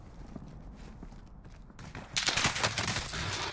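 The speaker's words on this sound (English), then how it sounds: "We're taking fire." Video game gunfire breaks out as a sudden loud burst of rapid shots after a quieter stretch with soft footsteps, continuing dense to the end.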